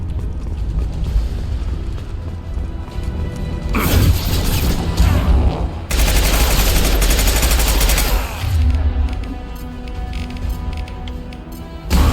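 Loud automatic gunfire from Mass Effect 2 rattles in sustained bursts, with heavy blasts and crashing impacts layered through the middle of the firefight; no voices are heard.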